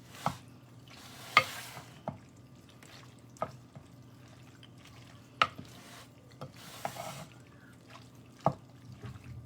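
A macaroni pie mixture is stirred in a pot, with soft wet scraping and a series of sharp spoon knocks against the pot at irregular intervals over a quiet background.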